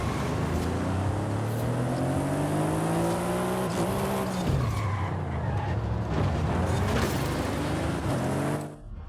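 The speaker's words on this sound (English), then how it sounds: "there goes the Porsche" A Porsche race car in Forza Horizon 5 roars past with a loud engine that climbs and falls in pitch. Tyres squeal and skid as it goes, and the engine noise is heavy and continuous with no talk.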